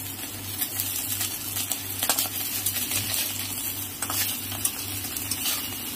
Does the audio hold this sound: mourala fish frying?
yes